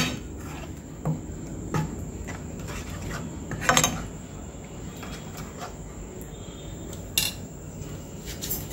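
A spoon stirs momo chutney with soy sauce and a dash of vinegar in a bowl, giving scattered clinks and scrapes against the bowl over a steady background hum, with a few sharper knocks; close and moderate.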